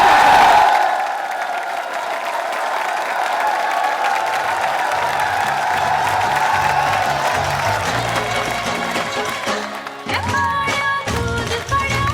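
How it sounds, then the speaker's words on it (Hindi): Audience clapping for a fellow student who performed Kalbelia dance, in a teachers' training college quiz show; broad sustained applause from a crowd, steady throughout, with some scattered music-like tones and noise toward the end. "तो तालियां बजाइए आपकी सहपाठी के लिए"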